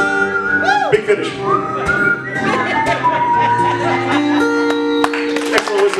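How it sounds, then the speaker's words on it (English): A person whistles a melody at a singer-songwriter conference, clear and close with sliding and sustained tones, building to a big finish with some light crowd sound underneath. "Excellent whistling, thank you."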